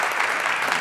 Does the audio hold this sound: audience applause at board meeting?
yes